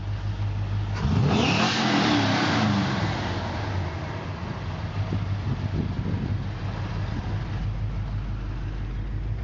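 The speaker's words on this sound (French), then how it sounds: "Le 350 stroker à l'intérieur tourne bien" The 350 stroker V8 engine of a 1982 Chevrolet C10 pickup revs hard and loud near the start, then settles into a steady, rumbling idle that continues to the end.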